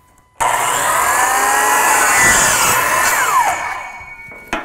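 A power saw trims a piece of wood while being calibrated with a SawGear measuring system. One loud, close, steady cut lasts about four seconds, then a brief knock follows. No one speaks.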